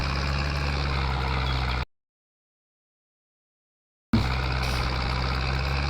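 Steady low drone of a tractor engine in Farming Simulator 22, idling at an even pitch, cutting out abruptly to total silence for about two seconds before resuming just as before.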